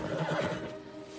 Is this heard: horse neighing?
yes